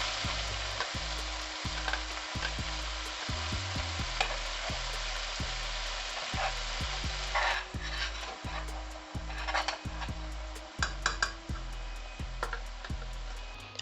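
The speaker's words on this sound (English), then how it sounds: "add all the blended mixture in this warm oil and let it cook for at least 10 minutes" A blended herbal hair-oil mixture cooking in warm coconut oil, a steady close sizzle with frequent scraping and rubbing stir strokes and a few knocks, no voices.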